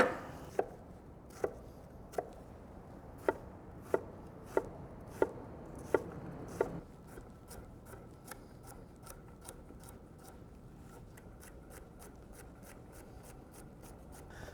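Knife chopping yellow onion, celery and carrot for a mirepoix, a steady series of crisp, evenly spaced board strikes for about seven seconds, then only a faint low background hum.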